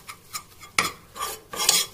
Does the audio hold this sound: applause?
no